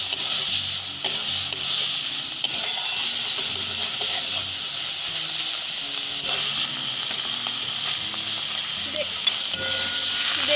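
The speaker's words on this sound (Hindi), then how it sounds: "इसमें धनिया पत्ता का चटनी देके अच्छा तरीका से भून लेंगे" Coriander leaf chutney fries in a pan with a steady, loud hiss and sizzle that runs unbroken throughout, with faint stirring scrapes beneath and no talking.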